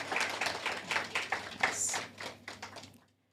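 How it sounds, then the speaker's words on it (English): A modest round of clapping at a national launch and award ceremony for a children's book project, distinct hand claps from a small group fading out into silence. "Let us give another round of applause for all our winners."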